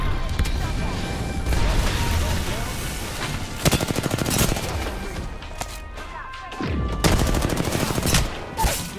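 Gunfire crackles through a firefight in Apex Legends on the Worlds Edge map, rapid loud bursts and repeated shots with a pause midway, while a player talks over the shooting.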